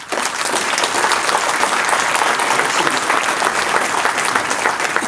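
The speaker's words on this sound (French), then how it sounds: "Ces deux personnes, je pense qu'on peut vraiment les applaudir." Loud, dense applause fills a hall at a mayor's New Year address in Uckange, France, a continuous wash of many hands clapping evenly without pause or talk.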